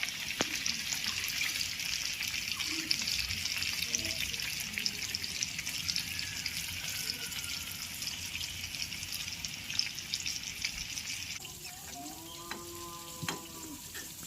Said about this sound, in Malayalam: നന്നായിട്ട് മുങ്ങിക്കിടന്ന് നല്ല പോലെ ഫ്രൈ ആയിട്ട് വരണം